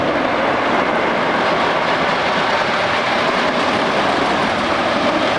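A roller coaster train at Martins Fantasy Island roars past in 1999, a loud, continuous broadband rumble with no voices.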